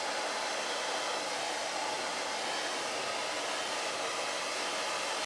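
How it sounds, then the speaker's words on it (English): A hair dryer blows steadily on hair being styled after a layered wolf cut, a loud continuous rushing drone close to the microphone with no break and no voices. "So I'm going to get this blow dried"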